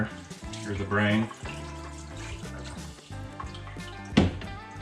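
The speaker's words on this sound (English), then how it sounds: "I'll add a little bit of the water or the brine." Brine poured over layered trout and salmon fillets in a pan for smoking, a close splashing, gurgling stream with a louder spurt near the end and kitchen clatter around it.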